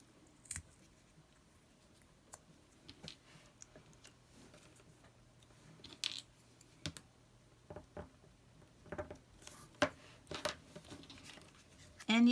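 A thumbtack pokes holes in craft material for jointed puppets, giving small sharp ticks and pricks scattered irregularly through a quiet room, close and faint, with occasional soft handling sounds.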